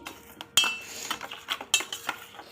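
Utensil stirring and mixing food in a metal pan, with katla fish and onion being worked through together; a few sharp metallic clinks and scrapes stand out over a soft, steady rustle of mixing, close by.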